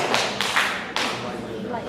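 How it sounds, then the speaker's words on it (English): Flat-handed claps in a room ring out as three sharp, bright smacks in quick succession, with a voice talking faintly beneath. "Try to make your hands flat now and clap again."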